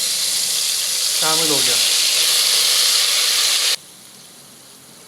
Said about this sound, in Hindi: अब आप काम करें, इसमें डलेगा लहसुन अदरक का पेस्ट 2 खाने के चमचे